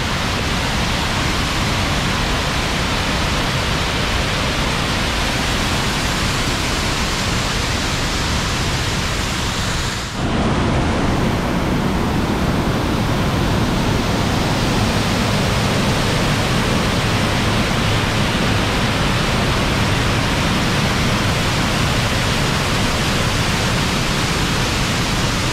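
The Búrica river waterfall at Horizontina, a loud, dense and unbroken roar of falling water that fills the whole stretch, with one brief dip and shift in tone partway through.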